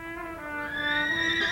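A single horse in a Don Quixote adaptation gives a short, steady, strongly tonal whinny that rises in pitch toward the end. It is close and clear over a low background murmur.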